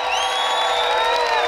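A live concert crowd at an outdoor picnic-style show in Brasília cheers and whoops loudly for the performer, a dense, steady wall of shouting voices with high whistles riding over it.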